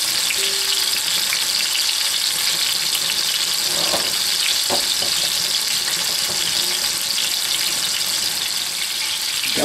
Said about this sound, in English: So I'm going to brown it on all four sides